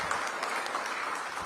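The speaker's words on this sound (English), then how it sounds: "Give Anita Bonds a big round of applause." Brief, moderately distant round of applause from an audience at a mayoral union agreement signing, a steady wash of clapping for about a second and a half without speech.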